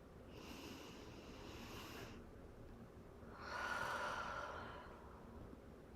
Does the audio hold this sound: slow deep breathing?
yes